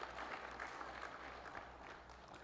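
A round of applause at an entrepreneurship week gala dinner, a sustained crowd clapping heard faintly, dense and even throughout.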